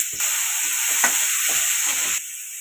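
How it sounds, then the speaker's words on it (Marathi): Onion and tomato sizzle together in a hot pan, a loud, steady hiss of frying that rises abruptly, holds for about two seconds with faint stirring scrapes, then drops away. "कांदा टॉमॅटो दोन्ही पण सोबतच टाकले म्हणजे पटकन एकदम होईल"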